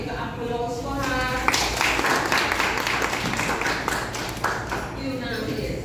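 Audience applause at a Dutch college event, a broad wash of many clapping hands building and holding steady for several seconds, with a voice speaking over it at the start and end.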